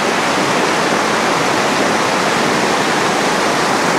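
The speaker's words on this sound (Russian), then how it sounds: "Такой небольшой водопад, который создает как раз таки здесь атмосферу холода." A small waterfall in Khashupse canyon pours in a steady, dense, close rush of falling water that holds at an even level throughout, with no voices over it.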